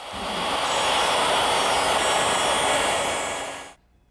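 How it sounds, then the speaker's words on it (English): A handheld router fitted with a 1/4 inch bit and guide fence cuts a groove into a wooden drawer front, giving a loud, steady high-pitched whine and roar for several seconds before stopping abruptly. "So I turn to my router with a 1/4 inch bit and a guide fence."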